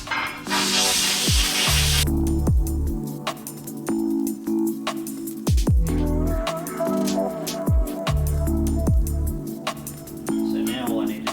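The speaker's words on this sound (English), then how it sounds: "let's see if we can get a blower in here and blow some of this crud out." Air blower blasting crud out of a milking stanchion on a farm, a loud steady rushing hiss that starts abruptly and holds close up, with low clunks and knocks and a voice speaking now and then.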